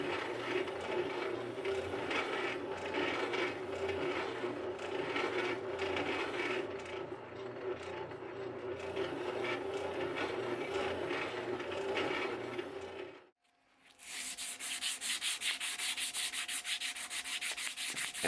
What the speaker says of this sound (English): I'm using my spindle sander. And this is an 80 grit drum as well